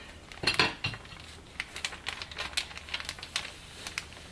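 A rolling pin crushes hazelnuts in a Ziploc bag over a kitchen towel: irregular crunching and clicking taps, a few sharper cracks early on, then a quieter run of small crackles and knocks, close and fairly soft.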